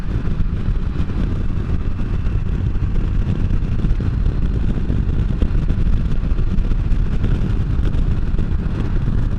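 Steady, loud engine drone and wind rush from a 2015 Can-Am Spyder F3 three-wheel motorcycle riding along a hilly road, continuous and even with no pauses.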